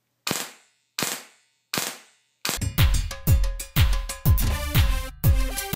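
A Polar Star airsoft gun fires three single semi-auto shots, evenly spaced and sharp, then switches to a run of rapid three-round bursts, each a quick clattering cluster, loud and close with no talk.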